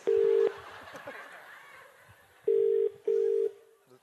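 A telephone ringing with a remixed, electronic ring: three loud, flat tonal beeps, one long and then two shorter ones close together, with people talking quietly between them.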